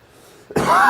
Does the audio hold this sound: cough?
yes